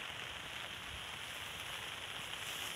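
Heavy rain pours steadily outdoors, a dense constant hiss of water striking the ground and nearby surfaces, close and loud throughout with no voices.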